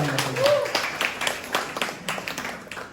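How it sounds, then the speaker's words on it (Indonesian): A congregation applauding during a church sermon, moderate clapping from many hands with a voice briefly heard at the start, the claps loosening and thinning as it goes on. "Tepuk tangan buat Tuhan kita."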